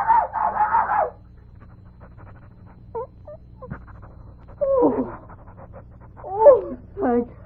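Pom-Pom, a small dog, gives quick bursts of panting and a few whimpers and yips. People talk in between, and the dog is close but fairly quiet against the voices.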